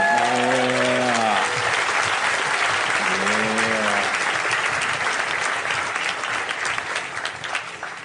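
Comedy show audience breaking into loud, sustained applause with some cheering, the clapping steady and dense before slowly thinning out, while a voice speaks briefly over the start.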